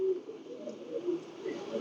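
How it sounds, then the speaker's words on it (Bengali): A male pigeon coos softly nearby in a few low, rolling calls. "এটা হলো নর কবুতর।"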